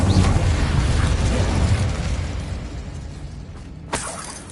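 An Incendio fire spell goes off in Hogwarts Legacy with a loud, sustained roaring blast that slowly fades, then a sharp crackling burst near the end.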